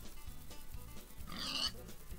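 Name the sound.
pigs oinking in Agrar Simulator 2013 video game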